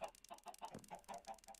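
Chickens in a Minecraft greenhouse farm cluck in a rapid, evenly spaced run of short, soft clucks heard close, with nothing else over them.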